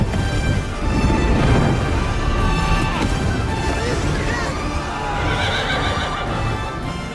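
Horses neighing and whinnying in panic during a battle scene from the film Creation of Gods, several loud shrill cries overlapping amid hoof clatter and rumbling commotion.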